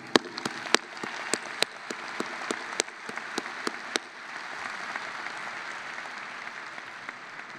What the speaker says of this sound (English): Let's applause for them.